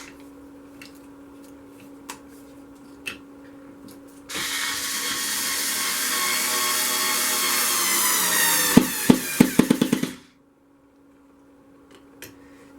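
A power driver sinks screws into a wooden board on a work surface, a loud steady whirring grind lasting several seconds that ends in a few rapid stuttering clicks as the screw seats, with quiet taps before and after.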